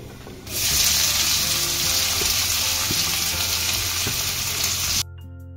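Onions hitting hot oil in a pan with cumin, a loud bright sizzle that starts abruptly and holds steady for several seconds, then cuts off sharply.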